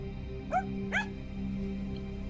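A dog in the video game Tales of Cosmos gives two short, high barks in quick succession over a quiet steady background hum.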